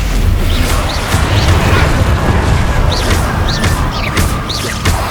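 Booming blasts from the Confringo fire spell in the Hogwarts Legacy video game, loud and dense, with repeated bursts and crackles over a constant roar of combat noise.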